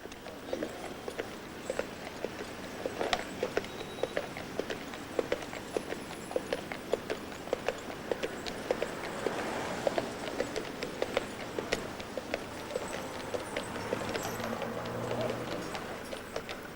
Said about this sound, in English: the sound of horses in the busy streets of London